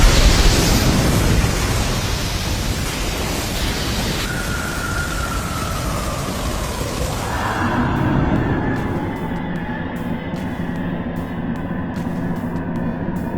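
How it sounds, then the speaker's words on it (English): Fireball Jutsu fire attack in the Shindo Life video game: a loud, dense roaring whoosh of flames that fills the air for several seconds, then gives way to a lower rumbling tail. "Fire style! Fireball Jutsu!"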